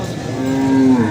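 Buffalo at a Bihar livestock market giving one loud, close, drawn-out low moo that lasts about a second.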